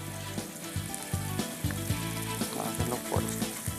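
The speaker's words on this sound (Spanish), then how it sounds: "Le vamos a rallar el tomate. Un tomate maduro" A ripe tomato rubbed against a kitchen grater, a wet rasping scrape repeated in a steady rhythm of roughly a stroke every half second, close and fairly loud.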